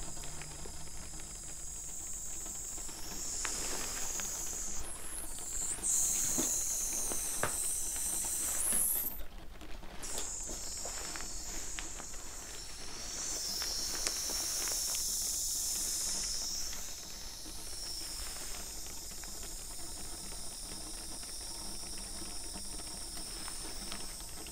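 A cleansing mist sprays in long, soft hissing bursts close to the microphone, breathy and airy, with a few faint clicks between sprays and no talk.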